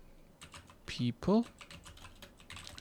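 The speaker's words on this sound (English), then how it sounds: "So I'm going to be typing in here in the" Computer keyboard typing during a screen-recorded software tutorial: a run of quick, light key clicks at close range, briefly interrupted by a short burst of louder speech.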